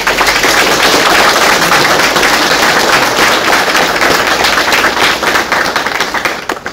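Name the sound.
audience applause welcoming speaker Leonardo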